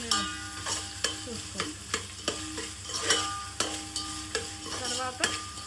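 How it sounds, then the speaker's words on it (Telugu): Telangana-style bagara rice is stirred in a pot over heat, with a rhythmic series of loud scraping strokes about once a second over a constant sizzle; a voice briefly speaks. "బాగా కలుపుకోండి, లేదంటే అడుగంటేస్తుంది."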